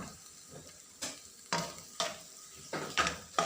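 Sambal chutney is mixed by hand or spoon in a bowl with a series of wet, squelching strokes and light clinks, close and rhythmic at about two per second, with no talk.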